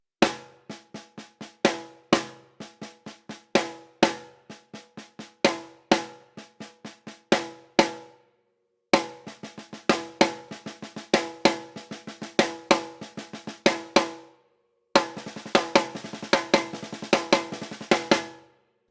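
A six-stroke roll rudiment played straight on a drum kit rings out as rhythmic groups of sharp hits, building in density across three passes, with crisp, close strikes and brief pauses between phrases, with no talking over it.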